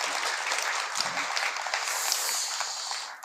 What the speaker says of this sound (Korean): 동의하시면 박수 한번 치세요.